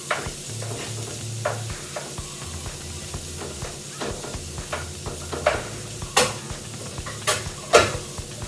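Red onion sautés in a pan, a soft continuous sizzle under repeated close scraping stirs of a utensil, with a few sharper clinks near the end.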